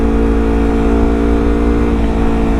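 A Honda CBR250RR fitted with a WRX GP3 K2 exhaust holds a steady, loud, close revving note with a dense, even tone and no talk.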